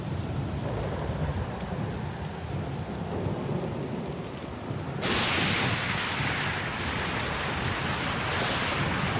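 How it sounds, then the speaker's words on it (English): A thunderstorm with steady rain plays out in the pirate role-playing game Pillars of Eternity II: Deadfire. Low rumbling rain hisses constantly, then a loud thunderclap cracks partway through and is followed by heavier, brighter downpour. "That storm's pretty loud"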